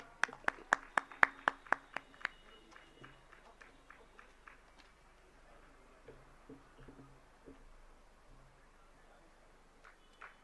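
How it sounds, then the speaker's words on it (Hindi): An audience at a Jain religious discourse in Agra claps. Sharp, distinct claps open the moment, then thin into scattered, fainter patters amid quiet hall ambience. "और आप सबकी जोरदार तालियां"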